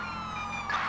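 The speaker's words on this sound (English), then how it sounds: "it's loud with all these sirens" Police sirens wailing in GTA with the LSPDFR mod, several overlapping steady tones, fairly faint and brief.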